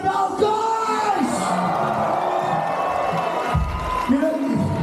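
Crowd at a Black Tooth gig in Ankara cheering and whooping for the girls, a loud, sustained roar of yells and shouts with a voice calling out over it at times.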